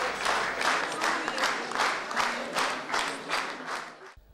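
Sustained audience applause welcoming a female singer on stage at a festive Khorezm celebration, with a steady wash of many hands clapping in a gently pulsing rhythm that stops abruptly near the end.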